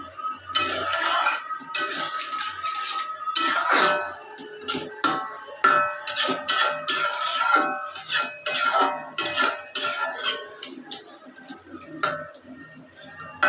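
Boiled papaya being stirred in a pan to make papaya chutney, heard as irregular close metallic scrapes, clinks and taps of a spoon against the pan, with no talking.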